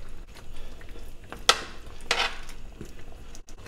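Saba bananas being stirred into a large pot of simmering humba with pineapple: two brief scraping clinks of a utensil against the pot over a low bubbling background, no voices.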